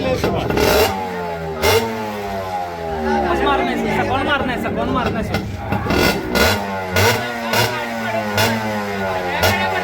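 A motorcycle engine revs close by in an outdoor setting, its throttle rising and falling in repeated bursts under loud, overlapping chatter from several people.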